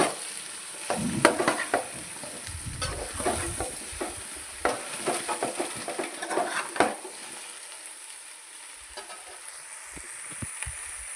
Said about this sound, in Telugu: మళ్ళీ ఒకసారి కలుపుకొని మూత పెట్టుకొని